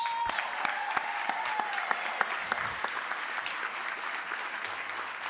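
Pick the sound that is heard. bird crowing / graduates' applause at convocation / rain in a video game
graduates' applause at convocation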